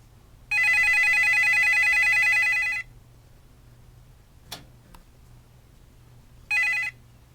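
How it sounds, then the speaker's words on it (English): A telephone rings while a call is placed to a guest, one long electronic ring burst followed by quiet and a couple of faint clicks, then the start of a second ring, close and clear. "So we'll get Sam on the phone"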